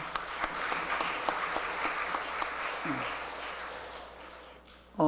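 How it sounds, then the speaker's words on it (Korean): A church congregation at Sunday service claps to celebrate two members' birthdays: a moderately distant, sustained patter of applause that slowly fades out near the end. "우리 지수하고 예찬이 생일 축하한다고 박수 한번 보내겠습니다"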